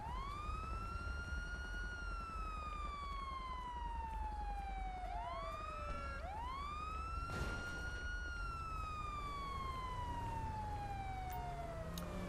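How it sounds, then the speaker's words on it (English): A police car siren in the video game LSPDFR wails in long rising and falling sweeps, interrupted midway by quick yelp-like bursts, steady and fairly faint throughout. "get our siren shut off"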